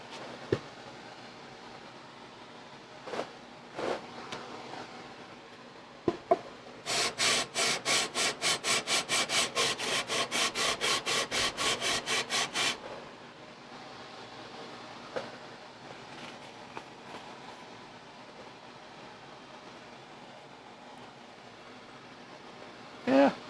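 Kohler engine block rubbed back and forth with sandpaper on a flat surface, a rapid run of rhythmic rasping strokes in the middle, with scattered scrapes and knocks before and after.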